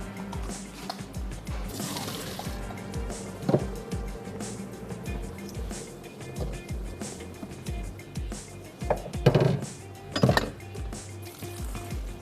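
Boiled macaroni pasta is drained through a strainer, with uneven splashes, drips and trickling water broken by clattering knocks of the strainer and pot, fairly close and without talk.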